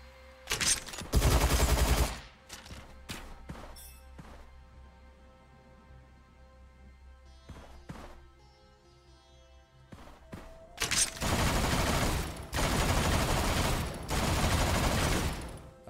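Gunfire in the shooter game Gunfire Reborn: two loud bursts of rapid automatic fire, one short at the start and a longer sustained one near the end, with sparse single shots and quieter game sounds between.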